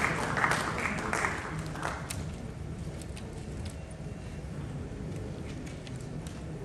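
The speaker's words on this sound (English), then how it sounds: "A round of applause for Baba as he comes to the podium to tell us really why we are here." Audience applause at a mining and minerals convention, a dense wash of clapping that is strongest at the start and then settles into a steady, fainter patter.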